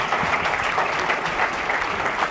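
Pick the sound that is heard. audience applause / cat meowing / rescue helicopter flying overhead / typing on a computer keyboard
audience applause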